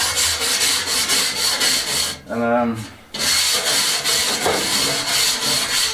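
Loud, steady rhythmic scraping as loose old paint is worked off a stone wall in a derelict Spanish finca. The strokes run continuously, with a brief pause partway through, and a voice speaks briefly.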